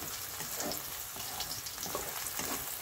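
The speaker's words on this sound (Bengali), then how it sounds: "সেই জন্য পেঁয়াজটা একটু ভেজে নেবেন।" Onions frying in a pan for beef curry give a soft, even sizzle, faint and steady, with light stirring movements and no talking.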